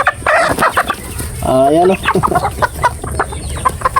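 Pet chickens cluck loudly up close, a run of sharp calls broken by one longer drawn-out squawk, while someone speaks briefly.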